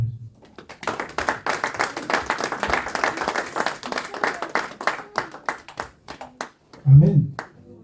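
A church congregation claps and applauds in a burst of dense, rhythmic clapping lasting several seconds, tapering into scattered claps, with a voice speaking near the end.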